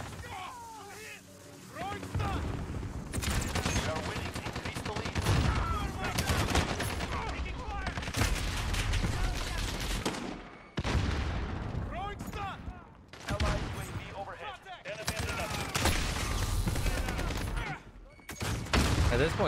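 Dense, near-continuous gunfire from a video game shooter, rapid automatic bursts and heavy reports crowding together with brief lulls, loud and close throughout.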